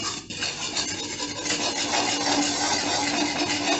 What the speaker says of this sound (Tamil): இப்படி கொஞ்சம் கொஞ்சமாக போட்டு மிக்ஸ் பண்ணி விட்டு கலரணும்